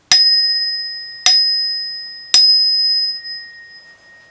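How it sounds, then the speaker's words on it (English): A one note chime bar from a nursery rhythm kit struck three times at even intervals, each a clear, pure ringing tone that sustains and slowly fades, loud and close with nothing else heard. "One note chime."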